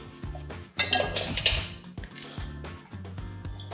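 A metal cooking pot being heated for lamb tacos is shifted and knocked about on the stove, giving a quick series of close clanks and rattles with brief metallic rings between them.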